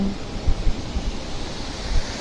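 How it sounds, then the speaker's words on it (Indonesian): A forest river and small waterfall rush steadily on a road through woodland, a continuous loud broadband roar with some low rumbling gusts, heard from nearby with no talk. "gemericik airnya terdengar jelas dari jalan."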